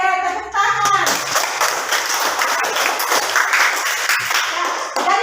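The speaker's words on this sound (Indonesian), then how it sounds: "Oke, tepuk tangan." Students in a classroom break into loud, dense clapping that starts abruptly after a brief voice and continues steadily to the end.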